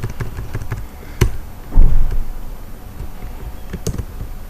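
Typing on a computer keyboard while entering text into an HTML text area: close, uneven clatter of key presses with a few louder, heavier strikes between them, and no voice.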